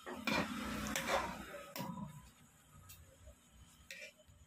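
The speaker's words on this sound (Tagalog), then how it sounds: "Mix ta siya." Chicken liver and gizzard adobo stirred in a pan, a spoon scraping and clinking against the metal for a few strokes up close, then softer scattered taps over a faint sizzle.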